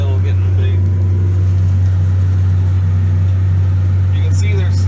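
Tractor engine running steady and loud while baling first-cut hay, a constant low drone with mechanical rattle and a voice talking over it.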